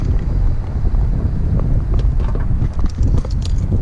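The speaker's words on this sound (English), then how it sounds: "it's really windy today" Loud, steady wind buffeting a microphone outdoors beside a Nissan 350Z, a constant low rumble with gusty bursts throughout and no clear voices.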